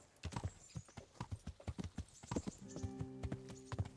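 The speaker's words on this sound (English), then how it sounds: "Don't you hear the horse?" Horse hooves clip-clop in a steady, close rhythm while riding through a medieval village in the video game Kingdom Come: Deliverance, with faint background game sounds and no talking.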